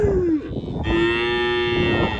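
Cattle held on a farm to be fed up to a higher weight, lowing loudly and close by: one moo that falls away, then a second long, steady moo filling the rest of the clip, with no talking.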